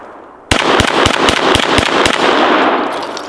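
Rapid string of sharp, loud pistol shots from a 9mm Glock 17L fired at a blue tank target, about nine reports in quick uneven succession, close and ringing, with no talking.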